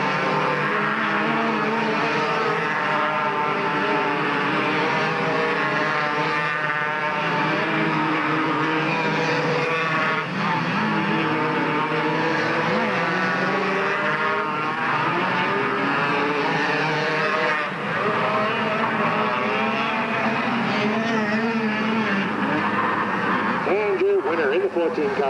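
Race cars roar off turn four at Delta Speedway during a 1996 short-track race, a steady, loud engine drone under continuous public-address announcing.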